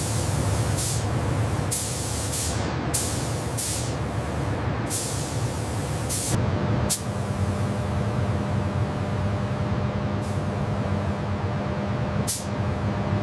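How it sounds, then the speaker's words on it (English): Anti-rust primer is sprayed onto the steel of a rusted Bagger 293 excavator in a recycling factory, making a loud, continuous close hiss broken by sharp bursts as the spray stops and restarts. "Anti-rust primer. Purpose: seal clean steel to prevent corrosion return and create an even base for the unified green coat."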